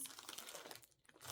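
Paper and plastic crinkling close up as a bag full of envelopes and mailers of different sizes is handled, rapid rustles with a brief pause.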